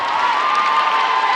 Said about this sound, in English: you can hear all of the chanting from the crowd